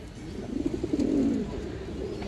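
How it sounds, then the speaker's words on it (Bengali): A healthy, active male pigeon coos once, close by: a rapid run of soft pulsed notes rolling into a longer throaty coo, over a quiet room background. "এই যে দেখেন দর্শক ওর ডাকাডাকিটা দেখেন, খুবই অ্যাক্টিভ নর, সুস্থ সবল কবুতর"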